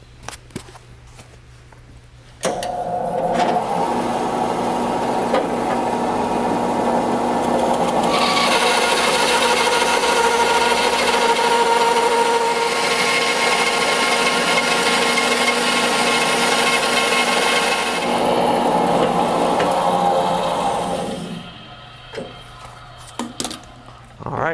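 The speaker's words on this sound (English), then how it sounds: "Let's go ahead and fire the saw up, and we'll see how this blade cuts." A bandsaw fitted with an Infinity rip blade cuts through wood with a loud, steady whine. The sound starts abruptly, holds for about eighteen seconds, then winds down into quieter clatter.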